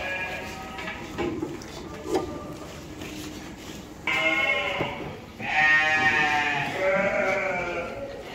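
Goats bleat at a goat farm, several nearby calls, some long and wavering, the louder ones coming in the second half over low background noise.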